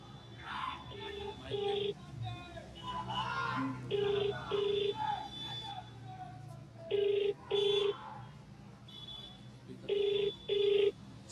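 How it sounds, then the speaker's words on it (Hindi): A phone on speaker rings after a call is dialed, giving four evenly spaced double-ring bursts over faint background voices and street noise. "अभी मैं फ़ोन मिलाऊं तो?"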